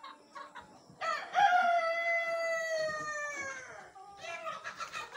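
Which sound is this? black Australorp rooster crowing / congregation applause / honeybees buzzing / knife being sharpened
black Australorp rooster crowing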